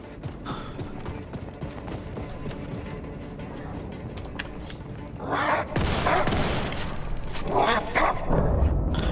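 Dog attacking in the Wolfenstein II video game, heard as a burst of loud, harsh snarling and growling in the second half, over steady game noise.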